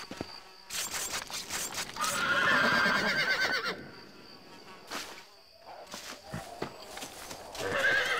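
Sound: horse neighing in video game

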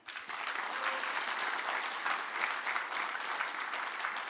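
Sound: applause

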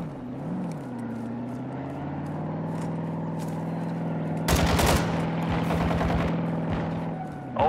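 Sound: gunfire in Call of Duty Warzone DMZ, from a video game

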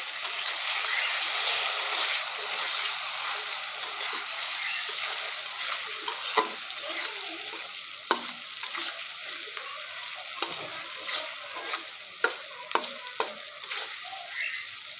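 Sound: guchi and poya fish frying in spiced masala

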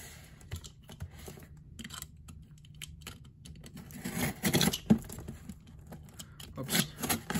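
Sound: opening a priority mail package

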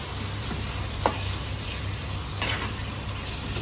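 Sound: stirring three green chillies into a dish

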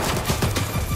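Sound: gunfire in video game Stalker 2: Heart of Chornobyl

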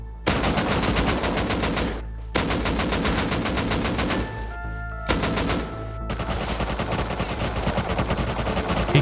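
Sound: gunfire in the video game Rust

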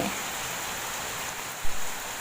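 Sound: heavy rain falling on cornfield

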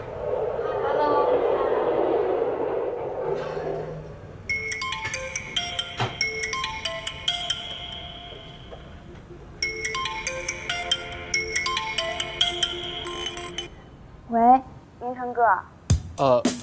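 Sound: phone ringtone of an incoming call

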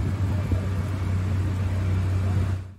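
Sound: food trucks outside the courthouse

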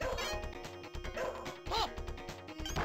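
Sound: ninja's dog attacking in Shadow Dancer arcade video game

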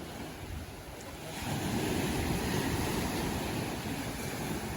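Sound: large ocean waves

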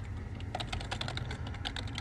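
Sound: typing on a Dell computer keyboard

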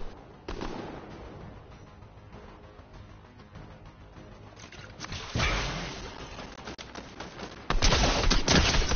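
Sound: gunfire in Fortnite video game

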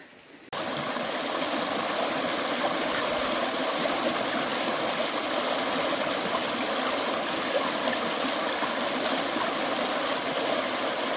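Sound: small forest stream flowing over rocks, Girnar

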